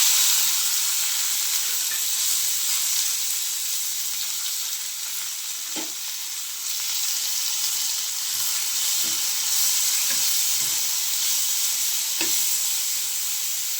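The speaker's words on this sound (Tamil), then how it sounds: "இப்போ வந்துட்டு தக்காளியும் மல்லி இலையும் சேர்த்து வதக்கிடலாம்." Tomato and coriander leaves being sautéed for kadalai sambar masala give off a steady, even sizzle throughout, with occasional soft taps of a spoon against the pan.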